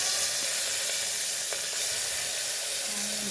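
Onions frying in a pan with ginger-garlic paste and turmeric give a loud, continuous close sizzle, broken by a few faint clicks and a brief low hum near the end.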